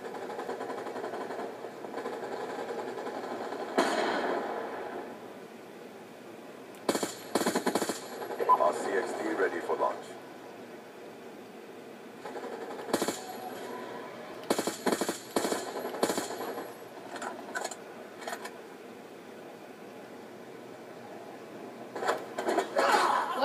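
Gunfire in a first-person shooter team deathmatch on an aircraft carrier map, several rapid bursts of automatic fire between quieter stretches, with players talking over parts of it.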